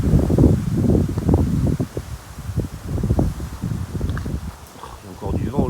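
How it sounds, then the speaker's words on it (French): Wind blows through a mid-February vegetable garden with Tuscan palm kale and lavender, making a steady broadband rustle and buffeting, with a voice talking throughout. "Il y a encore du vent aujourd'hui là."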